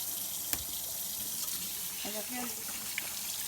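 Freshly hand-picked strawberries being rinsed under a running tap at a sink, a steady close stream of water with a brief spoken question over it.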